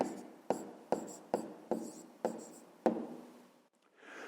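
A pen writes on paper in short close strokes, about seven sharp taps and scratches spaced roughly half a second apart, quiet and alone, then a softer brush at the end.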